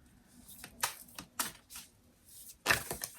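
An oracle card deck is shuffled by hand, giving several soft, quick riffling and flicking bursts at irregular intervals, fairly faint and close, with no talking.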